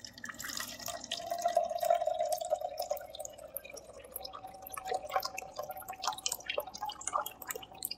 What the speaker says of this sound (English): Now we can decant the solution.